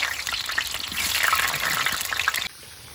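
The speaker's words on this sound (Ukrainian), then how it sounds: "олія дуже нагрілась, зараз будемо картоплю піджарювати, тоді м'ясо" Potatoes hit very hot oil in a frying pan in a village kitchen, giving a loud, close sizzle and bubbling that runs for a few seconds and then drops to a faint hiss.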